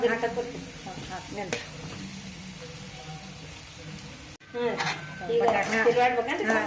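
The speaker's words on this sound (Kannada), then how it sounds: "ಸ್ವಲ್ಪ ತಿರುಗಾಡ್ಬೇಕು, ಎಲ್ಲ ಮಿಕ್ಸ್ ಆಗ್ಬೇಕು." Potatoes and onions stirred in a frying pan, with a steady sizzle and scraping of the spoon against the pan, broken by a brief pause, and talk over the cooking.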